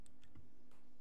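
Light computer keyboard key presses, a few quick soft clicks spaced through a short moment, close and quiet over faint room hum.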